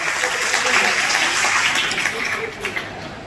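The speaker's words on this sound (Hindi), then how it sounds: "उनके लिए ज़ोरदार तालियां बजाई जाए।" Steady clapping from a crowd at a birthday program honoring students in Parbhani, loud and continuous, fading slightly toward the end with some voices mixed in.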